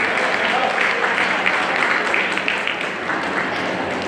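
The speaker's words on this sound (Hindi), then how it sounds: "हम लोग जोरदार ताली बजाएंगे।" An audience at a diocese Sunday School Day gathering claps steadily and densely for about four seconds, a thick continuous wash of hands with no voices over it.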